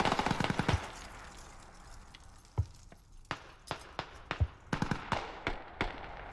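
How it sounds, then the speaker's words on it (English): Mortar fire in Squad, a military shooter, sounds as a string of sharp, fairly faint distant cracks and thumps, spaced irregularly and quickening toward the end. "This mortar's loud."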